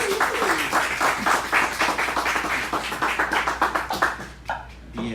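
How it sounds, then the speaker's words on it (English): An audience on a beach broadcast gives a round of applause, a crowd of hands clapping fairly close and steady, tapering into scattered claps near the end. "just give him a round of applause"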